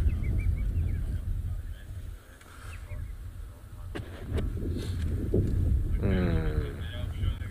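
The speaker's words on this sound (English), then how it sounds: "It's suddenly gotten a bit windier." Wind buffets a microphone outdoors on a wildlife safari with a steady, loud rumbling roar. A faint bird call and distant voices sit beneath it.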